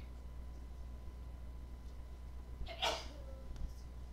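A single short sneeze bursts out faintly in the background, brief and sharp against a quiet room hum.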